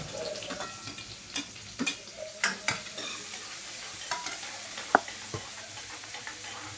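Chopped onion frying in hot oil in a home kitchen, a steady soft sizzle beneath repeated scraping stirs and clicks of a spoon against the pan, fairly close and moderate in level, with no talking.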